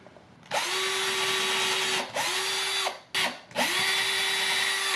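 A cordless power drill bores holes in a Telecaster guitar control plate, whining loudly in three sustained bursts with brief stops between them, close up and without talk.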